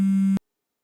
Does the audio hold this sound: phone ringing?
yes